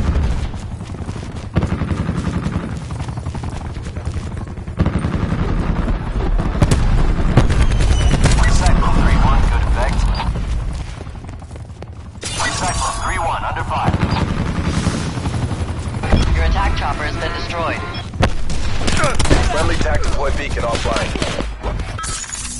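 An attack helicopter fires in a PS4 military shooter game: a loud, dense roar of gunfire and blasts with rotor noise, nearly continuous, with radio chatter mixed in.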